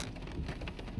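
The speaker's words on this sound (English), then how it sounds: "It's raining." Rain falls during a drive, a steady patter of drops on the car heard close up for about a second, with no voices.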